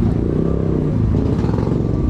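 Royal Enfield motorcycles, about twenty-five of them, idle and rumble close by as riders get ready for a group ride from Kathmandu to Jiri; the engines drone continuously under people talking.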